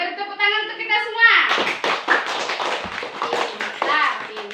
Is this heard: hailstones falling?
no